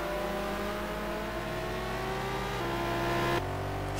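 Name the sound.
BMW M3 race car engine in a racing video game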